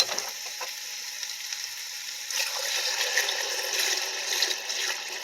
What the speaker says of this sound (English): So now we just add water.